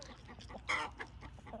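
Backyard chicken clucking faintly, with one brief, louder squawk in the middle against a low outdoor background.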